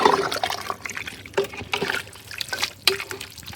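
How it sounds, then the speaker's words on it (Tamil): Water poured into a cooking pot over country chicken pieces, a close, steady trickling and splashing pour with brief gurgles and shifts as the flow changes. "கறி முழுகிற அளவுக்கு தண்ணி ஊற்றிட்டோம்"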